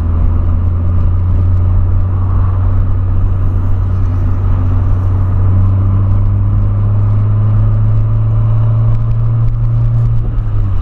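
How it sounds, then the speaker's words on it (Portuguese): Volkswagen Polo Sportline 1.6 accelerating on the road, a steady, loud engine drone with a low rumble that rises slightly in pitch as it pulls, heard from inside the car with no talking. "Aceleradinho, os carros saem voando."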